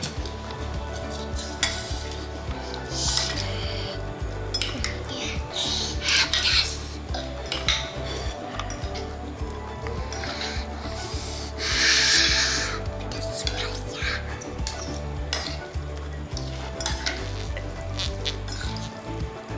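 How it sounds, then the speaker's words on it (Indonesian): Arirang instant noodles being stirred in a pan, with repeated scraping and rubbing of a utensil against metal, irregular clatters and a faint sizzle underneath, close and fairly busy throughout. "Dan kita aduk ya teman-teman."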